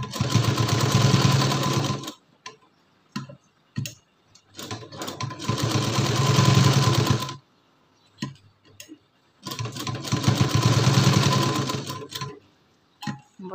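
A sewing machine stitches a blouse sleeve in three long steady whirring runs, each separated by short pauses with small clicks and handling sounds, close and fairly loud with no talking.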